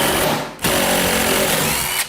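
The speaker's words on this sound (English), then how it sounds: "take your lags, you want to pre-drill." A power drill pre-drills holes for lag screws into wood while a hanging barn door is installed, whirring steadily in two close bursts separated by a brief pause.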